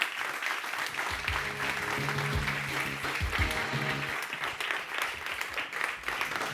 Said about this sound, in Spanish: aquí hay un aplauso más fuerte para Marta